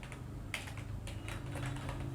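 Quick irregular clatter of fingers typing on a computer keyboard, close and moderately quiet, with no talking.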